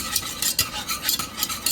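Eggs are whisked briskly in a bowl for sugar-free eggnog, making rapid rhythmic scraping and clicking strokes, close and alone.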